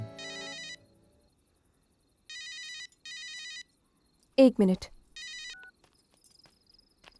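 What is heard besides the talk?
mobile phone ringing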